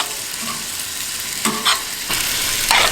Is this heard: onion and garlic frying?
yes